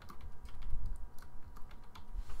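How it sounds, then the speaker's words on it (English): Fingers type on a computer keyboard nearby, a quick irregular run of soft key clicks with no voices. "you're gonna type in your"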